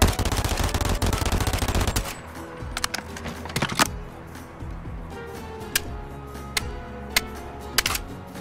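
An MP7 submachine gun fires in the VR game Bonelab, opening with a loud rapid automatic burst for about two seconds, followed by sparse single shots and mechanical clicks.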